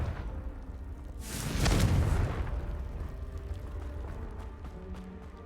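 A Confringo fire-blast spell bursts in Hogwarts Legacy with one loud, booming explosion that swells and then rumbles away slowly.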